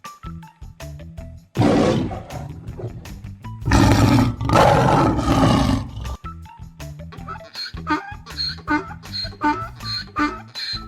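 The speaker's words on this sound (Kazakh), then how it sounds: "Арыстан." A lion roars several times, with a rough rumbling onset, two long loud roars in the middle, and a series of shorter grunting calls trailing off afterward.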